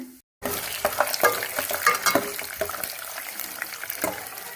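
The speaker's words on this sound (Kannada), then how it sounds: "ಶೇಂಗಾ, ಉದ್ದಿನಬೇಳೆ, ಕಡಲೆಬೇಳೆ ಹಾಕ್ತಾಯಿದ್ದೀನಿ. ಫ್ರೈ ಮಾಡೋಣ." Peanuts, urad dal and chana dal frying in oil in a pan after mustard seeds, a busy close sizzle with repeated scraping stirs and small crackling pops throughout, no voices.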